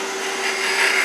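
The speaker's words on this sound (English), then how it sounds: "I'm going to just use this as a negative ring scraper here to get this" Negative rake scraper shearing a wood profile on a lathe, a steady close rasping scrape with a constant hum beneath, growing slightly louder toward the end.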